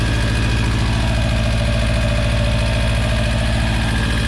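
A three-door Volkswagen Beetle (Vocho) engine idles steadily, a loud, close, even rumble with a fast regular throb that never changes, no voices over it.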